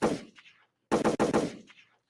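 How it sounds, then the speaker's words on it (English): Gunshot sound effect: sharp loud bangs, one at the start and then a rapid burst of three or four close together, each followed by a short echoing tail. "Gunshots for Tupac."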